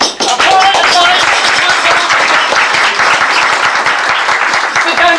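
A dinner audience at a Walkerburn Sir Walter Scott celebration breaks into loud, sustained applause, dense clapping filling the room throughout, with voices mixed in.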